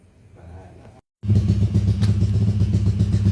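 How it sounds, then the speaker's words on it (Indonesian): A freshly rebuilt motorcycle engine, repaired after a blown crankcase, idles with a steady, loud, close, throbbing rumble that starts abruptly after a brief quiet stretch and keeps running evenly. "ini sekarang sudah hidup mesinnya"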